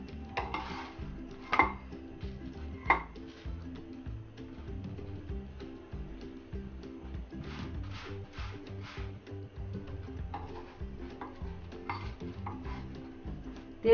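Keema paratha frying in a pan over low heat, with steady soft sizzling beneath repeated scraping and clinks of a spatula against the pan as the flatbread is flipped and moved.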